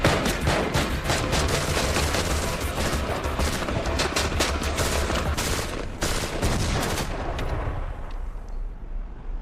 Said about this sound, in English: shooting through our vehicle's tempered windshield is no problem